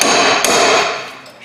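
Hammer strikes ring out on the crusty stud of a badly worn lower ball joint on a Ford Escape, with a sharp metallic clang near the start and a second hit around mid-clip, loud and close.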